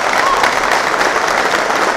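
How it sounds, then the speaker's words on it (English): Dense, steady applause from an indoor audience at a corporate diversity team event, sustained and loud throughout with no pauses. "So I'd like to give her another big round of applause."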